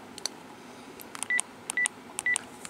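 A Panasonic KX-TGE275S cordless phone sounds keypad beeps: one short pair of tones, then three spaced pairs of clear dialing tones, close and moderately loud over a quiet room.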